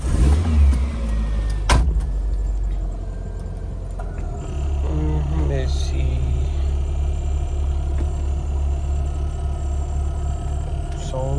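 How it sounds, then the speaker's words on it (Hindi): A car pulls out of a parking area with a low, steady engine rumble close by, joined by a sharp knock or clunk near the start and a few faint squeaks as it rolls away. "गाड़ी निकाली है अभी पार्किंग से"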